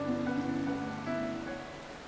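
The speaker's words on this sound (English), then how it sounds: "Oh my god, we're just out in the rain." Steady rain falling in the video game Final Fantasy XIV, a soft continuous patter on surfaces with a faint musical tone underneath, even and unbroken throughout.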